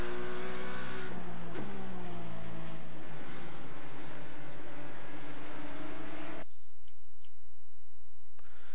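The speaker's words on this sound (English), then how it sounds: "big crash" Porsche GT3 race car in iRacing, engine dropping in pitch through a crash with a few sharp impact clicks, then cutting off abruptly into a quiet ticking near the end.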